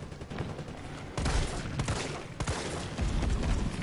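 Dense, close gunfire in Resident Evil 3, several sharp overlapping volleys in quick succession over a noisy game background.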